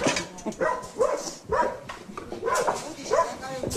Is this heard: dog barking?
yes